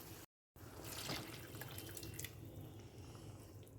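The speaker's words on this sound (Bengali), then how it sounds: "সেই বাটিরই 2 বাটি জল আমি অ্যাড করে দিলাম এর মধ্যে" Water is poured into a pan of cooking potato and dal curry, two bowlfuls going in. It makes a close, steady splashing trickle that runs on after a short gap of silence near the start, with no talking.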